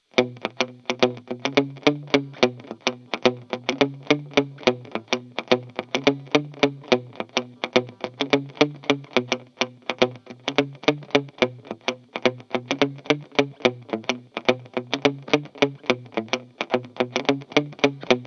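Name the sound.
reggae guitar tone with cassette effect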